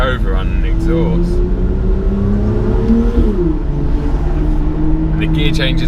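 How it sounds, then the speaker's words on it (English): Exhaust of a 2016 BMW M135i or M2 on overrun, a loud close engine drone that dips and settles as the throttle lifts, with faint crackles and brief talk at the start and end. "Oh, and the overrun and exhaust."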